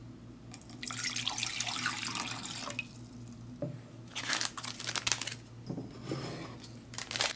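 Water is poured for an MRE cold-weather cocoa beverage, coming in uneven splashing bursts with brief pauses, close and moderately loud, no voices.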